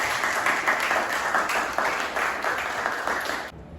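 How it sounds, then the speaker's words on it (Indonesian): A vocational high school class applauds itself after a chant, a steady wash of many hands clapping at moderate loudness that stops abruptly just before the end. "Tepuk tangan untuk kita semua."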